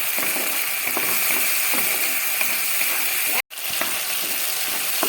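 Ginger, green chili paste and tomato sauté in a pan for a vegetarian cauliflower roast, giving a steady close sizzle and fry hiss with soft stirring scrapes and a brief cut to silence midway.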